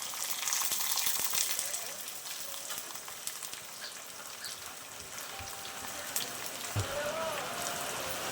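Curry leaves crackle and sizzle in hot oil while beetroot pachadi is being made, a soft, continuous spitting hiss with small pops and a faint clink near the end.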